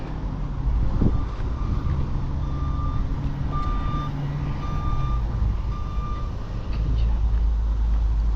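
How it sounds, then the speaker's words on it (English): A forklift at a junkyard sounds a series of evenly spaced reversing beeps at moderate distance, over a steady bed of wind and engine rumble. "There's a forklift right there."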